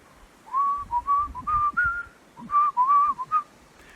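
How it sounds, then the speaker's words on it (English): A lilting tune played on a whistle, short phrases of clear high notes with brief pauses between them, alone and close. "So he pulled out his whistle"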